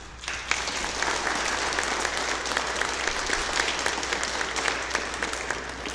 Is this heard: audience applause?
yes